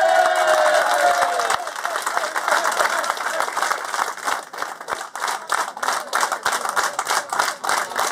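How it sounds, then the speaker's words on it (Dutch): Warm applause from a crowd of guests for the players at a club New Year's reception, dense steady clapping with some cheering that fades slightly toward the end. "Zou ik de spelers willen bedanken met een hartelijk applaus van jullie."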